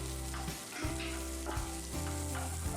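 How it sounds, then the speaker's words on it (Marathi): Lengthwise-sliced onion fries in a pan for a Kolhapuri mutton masala, giving a constant hissing sizzle with periodic scraping stirs at a close, fairly quiet level. No one speaks. "यामध्ये एक कांदा मी टाकतोय. कांदा मी लांबडा चिरलेला आहे"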